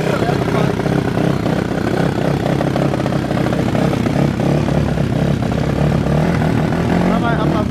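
A 470cc motorcycle engine running and revving steadily close by, a loud continuous buzzing drone, with people talking over it.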